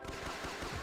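Rapid automatic fire from an MG42 machine gun nest in a combined-arms strategy video game, a dense, continuous rattle of shots close and loud for a brief burst, with no voices.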